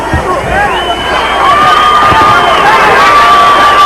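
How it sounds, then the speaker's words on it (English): A boxing arena crowd roars and cheers, urging on a fighter during a middleweight bout between Roy Jones Jr. and Fermin Chirino. The loud, steady roar has whistles and shouts, and it swells over the last two seconds. "now he's hearing it from the crowd, egging him on"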